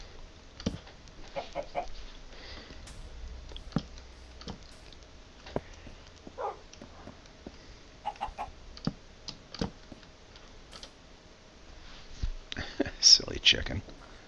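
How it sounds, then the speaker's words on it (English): A chicken in a video game gives scattered soft clucks and a short burst of louder squawking near the end, under quiet ambient clicks and occasional talk. "Silly chicken."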